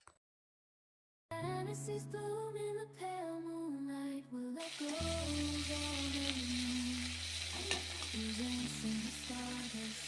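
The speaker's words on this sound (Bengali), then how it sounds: "মাছগুলো আমরা বেশি ভাজা করব না একটু লাল লাল করে নামিয়ে ফেলবো" Prawns fry in hot mustard oil in a wok, a steady close sizzle with stirring scrapes that starts after a moment of silence and swells louder partway through.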